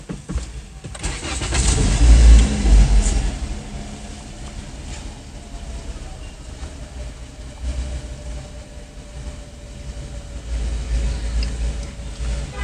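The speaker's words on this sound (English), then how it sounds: "let's see what will happen after starting the car" A 2016-2017 Toyota Corolla engine cranks and catches with a loud close burst, then settles into a steady, lower idle hum for the rest of the stretch, with no talking.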